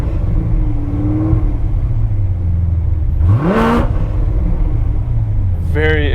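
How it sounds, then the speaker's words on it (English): A 2019 Corvette Grand Sport with a supercharger, cam and aftermarket exhaust rumbles at a loud idle, then blips sharply upward around the middle and again near the end, someone talking over it. "Very aggressive exhaust note."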